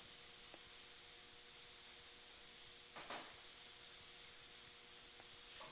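Airbrush spraying paint across a leather saddlebag in steady, soft hiss that runs unbroken and close, with a brief rustle partway through.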